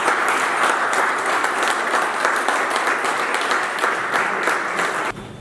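A conference audience gives a loud, sustained round of applause to welcome an engineer taking the stage, a dense even patter of many hands that stops abruptly at the end.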